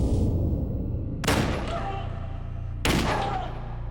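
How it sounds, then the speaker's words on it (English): A 9mm gun fires two sharp, loud bangs about a second and a half apart, each cutting through a steady low background rumble and fading quickly. "I don't know anyone who could sleep through a 9mm gun being fired multiple times"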